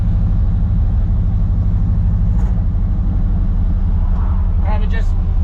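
A lowrider car with low gearing pulls away slowly from a stop, its engine a steady, close, low rumble throughout, with a few brief faint sounds near the end.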